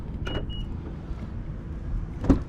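A 2018-2022 Honda Accord's door locks actuating, two short mechanical clunks about two seconds apart over a low ambient rumble, close by.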